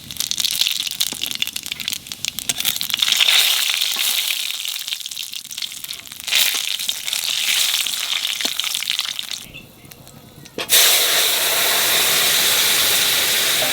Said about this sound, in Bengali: তেলের মধ্যে দিয়ে দেবো রামধনি, কালো জিরে,